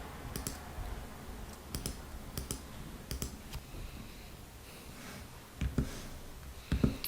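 Typing on a computer keyboard, soft scattered clicks in short bursts with pauses between, quiet and close with no talk over them.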